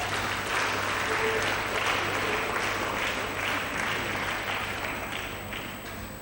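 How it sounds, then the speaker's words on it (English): Audience at a college fest inauguration applauding guests of honour, a dense, steady clapping from a large crowd that holds for several seconds before slowly thinning. "Let's give them a round of applause."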